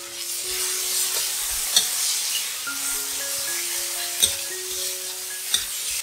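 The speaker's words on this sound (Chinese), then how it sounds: "加入盐、胡椒粉、素蚝油、酱油，翻炒均匀" Vegetables stir-fried with salt, pepper, vegetarian oyster sauce and soy sauce for a vegetarian oyster vermicelli dish, a steady hiss of frying under a few sharp spatula knocks, with faint tonal beeps in the background.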